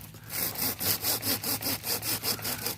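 A hand saw cuts through bamboo in quick, regular back-and-forth strokes, close and clear, about ten rasping pulls with no talking.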